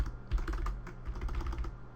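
Keys tapped in quick, uneven bursts on a computer keyboard while setting up code for a game, close and moderately loud with no talking.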